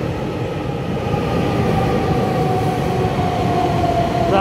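A twelve-car EMU3000 Tze-Chiang express electric multiple unit runs on the eastern line toward Taitung with a loud, steady rumble of wheels on rail and a rising whine near the end.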